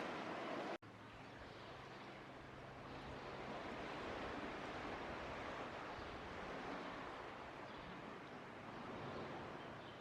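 Surf washing onto the beach at Cathedral Cove, New Zealand, with steady broadband roar of breaking waves and wind across the mic, continuous throughout after a brief knock near the start, no talk.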